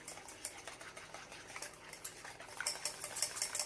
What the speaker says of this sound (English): We're going to whisk all of this together